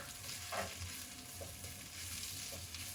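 Brussels sprouts wilting in a frying pan give a steady close sizzle with occasional stirring scrapes, moderately quiet and continuous, no talking.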